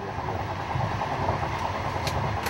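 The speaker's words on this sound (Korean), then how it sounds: "그를 만나기 위해 기차에 올랐다." Steady rumble of a train travelling on rails, heard from inside a carriage, with a continuous low roar and faint rattling throughout.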